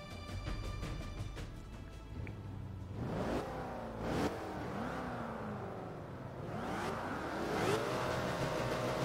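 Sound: race car engines revving in Forza 5 video game

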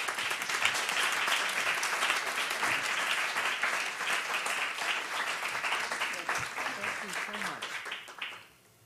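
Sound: audience applause welcoming Senator Hassan

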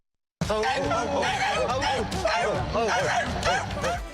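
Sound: people imitating dog barking on command

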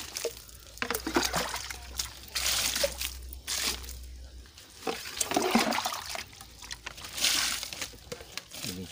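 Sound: watering a black pearl guava plant with JMS fertilizer

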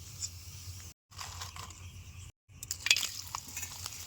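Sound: potato papad frying in a pan

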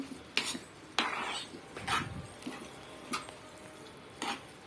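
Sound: stirring cooked pasta into gravy

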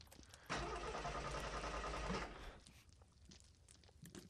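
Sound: car engine starting in video game They Hunger

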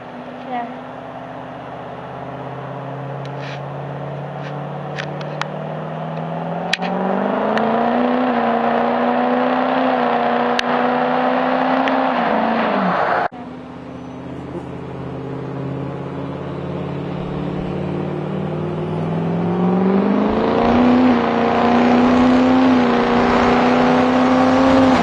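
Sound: Ford 6.0 Powerstroke diesel truck burnout and launches

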